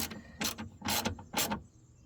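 Ratchet wrench snugging window regulator bolts on a 1997-2001 Jeep Cherokee: three or four close, crisp bursts of clicking strokes in quick succession, with no talk.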